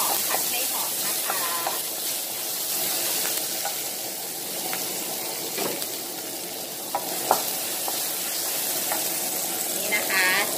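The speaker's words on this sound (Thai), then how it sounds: "ก็ตามด้วยพริกเลยนะคะเอาแบบรวดเร็วนะคะผัดให้หอมผัดให้หอมนะคะ" Chili peppers stir-fried fast in a hot pan for crispy fried grouper with holy basil, a steady close sizzle with scraping spatula strokes and metallic clinks throughout, some faint voice in the background.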